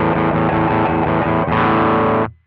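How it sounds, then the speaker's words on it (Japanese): Electric guitar played through a BOSS ST-2 Power Stack distortion pedal set to a crunch tone, loud sustained chords ringing steadily, then a fresh strum before the sound cuts off and decays. "非常に使いやすそうなクランチサウンドになりました。"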